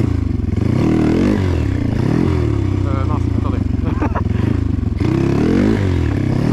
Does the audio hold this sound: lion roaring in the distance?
no